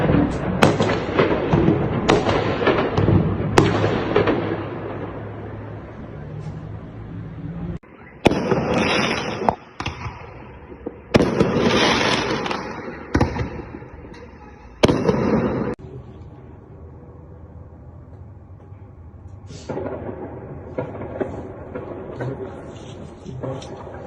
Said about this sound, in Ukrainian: потужні вибухи прогреміли в російському Енгельсі